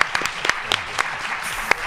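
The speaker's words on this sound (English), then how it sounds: "let's applaud our panelists here" A small audience applauds panelists after a discussion on arts and media, sparse individual claps standing out clearly against a quiet room, brief and close.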